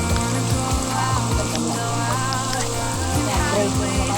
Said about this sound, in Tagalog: Enjoy na lang natin yung ulan.